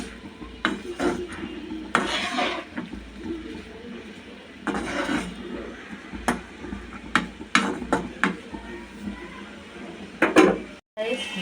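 Vegetables for a Bangladeshi hotel-style sobji, salted and stirred in oil in a pan: intermittent close scraping and rubbing strokes of the spoon against the pan, arriving in uneven bursts with quieter gaps between.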